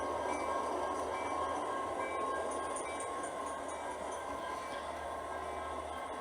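An HO scale model train runs in reverse on a modern-day switching layout, making a faint, steady rolling whir with a thin tonal hum, continuous and fairly close.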